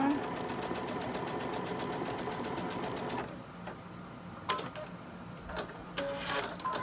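A sewing machine stitches a quilt block's fabric in a fast, even rapid-fire clatter for about three seconds, then stops, leaving a few quiet clicks and handling sounds close by.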